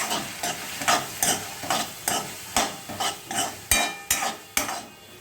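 Julienned carrots and other vegetables for Hakka chowmein stir-fried in a hot pan, a steady rhythm of scraping stirs over a continuous sizzle, close and fairly loud with no talking.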